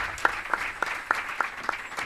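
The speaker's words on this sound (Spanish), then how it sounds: "Un aplauso para ellos" Sparse, evenly spaced claps, about seven in a row, at a round-table panel on reporting LGBTIQ+ hate crimes, as the audience welcomes the guests. The claps are distinct and moderately loud over a quiet room.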